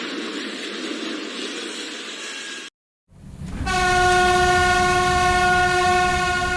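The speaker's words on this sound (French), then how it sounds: "Voilà ce qui se passe lorsque les tests de freinage d'une locomotive électrique ne se passent pas comme prévu." An electric locomotive during a failed braking test gives a loud broadband rumble, a brief silence, then a sustained harsh shriek with strong steady tones like grinding brakes or a horn, close and continuous.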